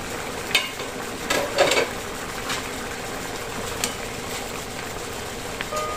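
Lapu-lapu escabeche, a sweet and sour fish dish, sizzles in a pan while being stirred, giving a steady frying hiss broken by a few scraping clinks of the utensil, close and fairly loud.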